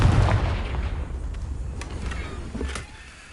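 A Confringo spell goes off in Hogwarts Legacy as a loud booming blast that rumbles and fades, followed by a few sharp cracks and impacts in the game scene.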